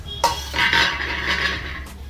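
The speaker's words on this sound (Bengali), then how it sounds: "এবার ঢাকনাটা খুলবো।" Metal lid lifted off a cooking pot on the stove while a Bengali fish curry simmers, a sharp clink followed by a short rattling scrape, with the steady hiss of boiling underneath.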